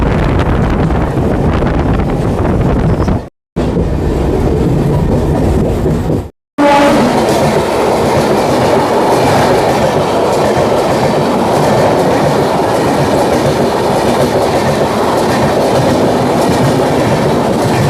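A Jan Shatabdi Express running on the Korba line between Raigarh and Gondia, with a steady loud rumble of wheels and carriages and rhythmic clickety-clack over rail joints, mixed with wind buffeting the microphone, broken by two brief cuts early on.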